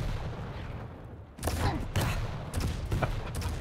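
Rocket explosions in the video game Quake during a competitive match: several heavy booming blasts in quick succession over a rumbling game background.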